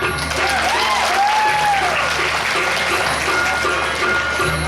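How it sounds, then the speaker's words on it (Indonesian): Applause from an audience at a Balinese arts festival performance, a steady wash of clapping that fills the whole stretch, with a thin tonal sound drifting briefly over it and no speech. "Tuh, tepuk tangan."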